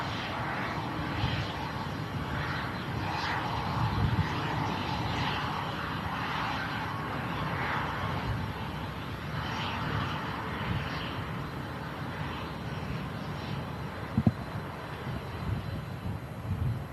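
A Ryanair jet or a Turkish Airlines A321 airliner passes overhead, a broad steady engine roar with some wind buffeting on the microphone, holding for the whole stretch.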